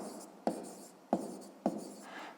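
Three quick pen strokes on paper, each a short scratchy burst about half a second apart, close and quiet in a still room.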